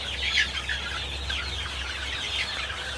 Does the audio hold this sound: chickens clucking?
yes